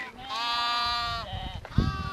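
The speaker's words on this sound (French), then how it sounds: "toutes les chèvres montent dans la montagne" A goat heading up into the mountain pasture gives one long, loud wavering bleat close by. A shorter bleat and some rustling follow.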